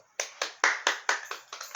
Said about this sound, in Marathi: टाळ्या वाजवा पप्पा